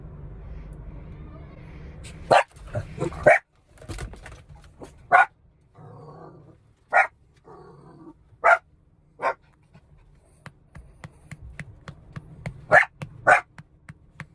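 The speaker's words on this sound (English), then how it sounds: "Dogs." Several sharp dog barks ring out one at a time at irregular intervals, with quieter stretches of panting and faint whimpering in between.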